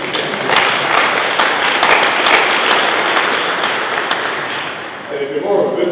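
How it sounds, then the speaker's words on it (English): A synod audience claps together in a sustained round of applause that fills the room at steady volume, tapering slightly near the end. "so a clap for you too."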